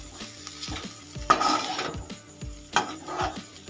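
A spoon scrapes and knocks against a pan in irregular strokes as leftover idli pieces are stirred, with a soft sizzle underneath, close and moderately loud.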